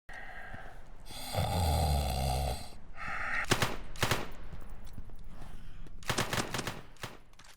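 Loud, rough snoring-like growls from a zombie in the video game Back 4 Blood come in uneven bursts, with a long harsh rumble early on and sharp rasping bursts later, close and unaccompanied by speech.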